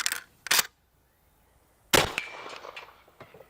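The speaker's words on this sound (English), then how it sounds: "I'm gonna put 1 round of buckshot through our dummy with this 12 gauge pump action shotgun" A 12 gauge pump-action shotgun fires a single round of buckshot into a dummy: a loud, close blast with a ringing, echoing decay, preceded by two shorter, sharper cracks and then brief quiet, with no talking.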